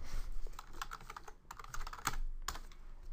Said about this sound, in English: I can either type feedback to the student in the evaluation window